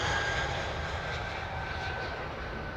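An aircraft at London Heathrow Airport gives off a steady, moderately distant engine roar, unbroken and without voices.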